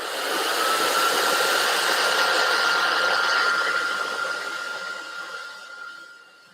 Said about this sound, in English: I'm going to have to blow dry this for just a second.